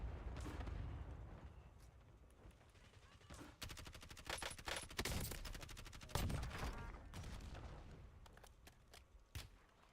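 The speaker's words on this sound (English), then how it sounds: "Oh, I'm getting sniped from the right." Video game combat with dense, crackling gunfire and repeated sharp shots and booms, some rapid bursts, fairly distant and low in level, with occasional heavier blasts standing out.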